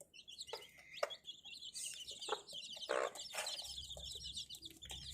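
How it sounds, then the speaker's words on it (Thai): Jungle fowl crossbred chickens clucking and chirping, a busy overlapping mix of short calls and soft clucks, fairly faint and close-ish, with steady background chatter of other birds and no talking. "ไก่ป่านี่โอ้งามหลายเลย"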